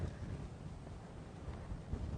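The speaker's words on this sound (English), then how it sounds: "very windy." Strong wind buffets the microphone on an open safari game drive, a steady low roaring rumble that fills the whole clip with no voices.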